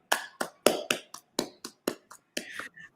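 A small group clapping unevenly from home at a virtual day party, about a dozen sharp claps in an irregular rhythm, close and fairly loud with short gaps between them.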